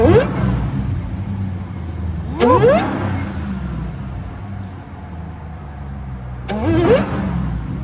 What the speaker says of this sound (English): Let's get the exhaust sound.